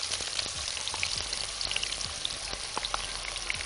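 Onions fry in hot oil with a spoon of ghee for fish rice, producing a close, steady sizzle full of sharp pops and crackles throughout.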